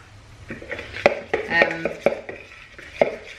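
A utensil clinks and taps against a bowl while vegan omelette batter is mixed, giving a handful of irregular knocks and scrapes with a brief tonal ring, close up and moderately loud.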